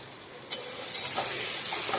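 Masala for an egg curry frying in oil as ghee is added: a soft sizzle swells into a loud, bright, continuous hiss with small pops, close and steady.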